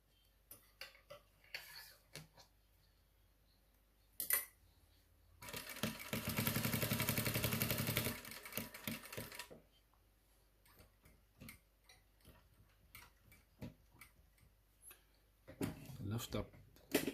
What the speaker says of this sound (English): we are sewing 3 millimeter from the edge of the fabric